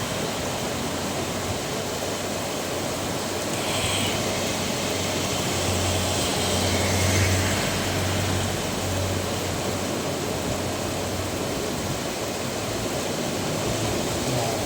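Heavy rain pours down in a steady, dense broadband hiss that stays constant and fairly loud throughout, with a faint low rumble underneath and no talking.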